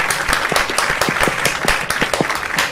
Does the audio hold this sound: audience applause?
yes